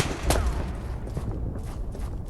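A WW2 shooter video game, Polyfield, fills the scene with loud, dense gunfire, opening with a sharp shot and followed by a rolling clatter of battle noise.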